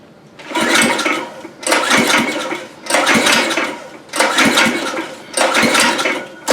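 A homemade dump truck engine is turned over repeatedly, five rhythmic bursts of clattering, rattling cranking separated by short pauses, loud and close with no talk.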